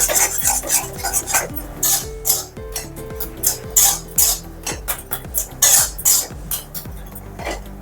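Mashed taro root is stirred briskly in a wok, producing rapid, repeated scraping and clacking of a utensil against the metal pan in a close, uneven rhythm.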